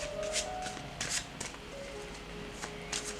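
Tarot cards are shuffled and drawn in a few short papery riffles and flicks, close and soft, over a faint steady background tone.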